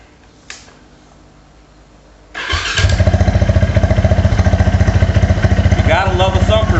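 A KTM LC4 640 single-cylinder thumper motorcycle cranks briefly after a click, then fires and settles into a loud, rapid, evenly pulsing idle close by.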